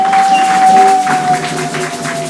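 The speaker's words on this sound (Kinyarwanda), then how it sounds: "Katwongera Imana amashyi." Congregation clapping for God at a church worship service, a dense steady patter of many hands with a sustained tone held over it.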